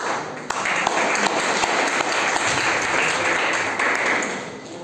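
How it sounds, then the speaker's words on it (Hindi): Loud, sustained applause from a large crowd at an award distribution program, dense clapping that holds steady for several seconds before tapering slightly at the end. "तो जोरदार तालियां चाहिए असम का जंगल के लिए।"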